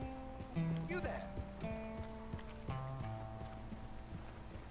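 Horse hooves clip-clopping in the video game Red Dead Redemption 2, a few slow uneven hoof knocks under a held musical tone, with a voice speaking over them.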